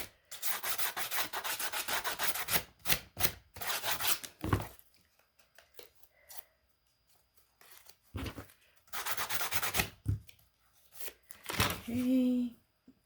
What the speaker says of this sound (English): now I'm going to use my sanding block to sand off the edges